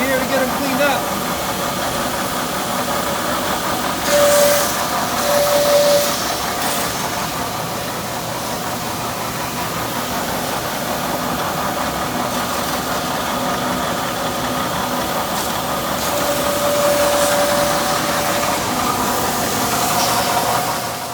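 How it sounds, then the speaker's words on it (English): A belt sander cleaning up the sidewalls of ski and snowboard cores, giving a steady, loud mechanical drone with a faint engine-like hum that runs unbroken throughout, swelling slightly at a few points. "now we are going to run these bad boys into the sander here to get them cleaned up"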